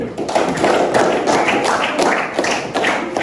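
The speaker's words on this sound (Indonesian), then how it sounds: "Oke, mari kita beri aplaus dulu." An audience at a talk on building resilience claps steadily for a few seconds, a close, dense patter of hands with no voices over it.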